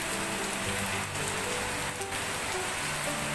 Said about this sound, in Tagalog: kunti lang naman siyang hangin pero malakas yung ulan.